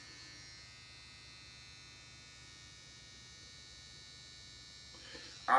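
An Amuliss JM-700AL cordless T-blade outline hair trimmer runs with a steady, fairly quiet electric motor hum and buzz. A brief louder click or handling noise comes at the very end.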